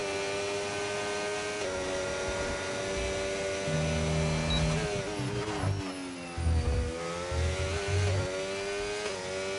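Onboard engine of a McLaren race car in a sim racing game at the Austria round, a continuous high revving drone with gear changes and pitch dips as it brakes and accelerates.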